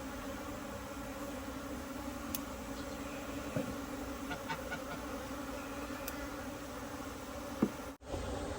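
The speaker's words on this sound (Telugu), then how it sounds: "అన్ని బాక్సుల్ని కలిచేసరికి తేనెటీగలు అన్నీ చాలా వచ్చేసాయి బయట చూడండి" Honey bees swarm out of opened hive boxes on a farm, a continuous close buzzing drone with individual insects briefly passing nearer, heard alone without speech.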